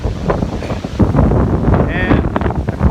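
Cold wind gusts across a sheltered beehive yard, a steady broadband rush buffeting the microphone close up throughout, with a person talking over it.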